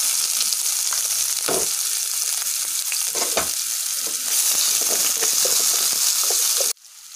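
Onion frying in refined oil with mustard powder and whole cumin, a loud close sizzle broken by scraping stirs, with no voices, before it stops suddenly near the end.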